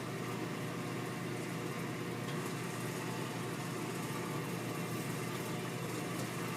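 An electric mixer runs steadily, beating brown butter pecan cookie dough with a continuous mid-pitched motor drone and no pauses.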